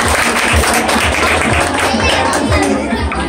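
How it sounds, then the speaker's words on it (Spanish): A crowd applauds at a casual family gathering, steady dense clapping with some chatter and voices mixed in throughout. "Regalémosle un aplauso."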